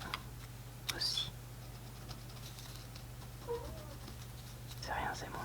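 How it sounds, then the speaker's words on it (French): A pet cat meows faintly in a quiet room during a French ASMR drawing and colouring session, a couple of soft calls under light tapping and background hiss. "C'est rien, c'est mon chat"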